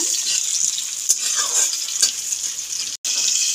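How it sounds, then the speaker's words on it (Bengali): Apple pieces sizzling in a hot mix of oil and ghee, a loud, steady close-up frying hiss with light spatter and a few soft scrapes, briefly cut off for a split second near the end. "তেল ঘিয়ের মিশ্রণটা খুব ভালোভাবে গরম করে নিয়ে প্রথমে আপেলের টুকরোগুলো দিয়ে দিলাম"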